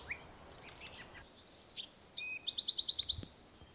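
Faint Bewick's wren song outdoors: a quick buzzy trill, a few scattered notes, then another bright, rapidly repeated trilled phrase over soft background hiss.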